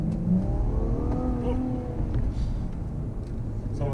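An Infiniti Q60 Red Sport 400 accelerates with a loud, close engine note that climbs in pitch, then drops sharply as the transmission shifts gear, rising again afterward.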